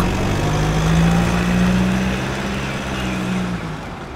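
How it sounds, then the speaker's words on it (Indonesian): A car pulls up in Sakura School Simulator. Its engine makes a loud, steady low hum with a droning tone that fades slightly toward the end. "Lah, bukannya itu mobil Evan?"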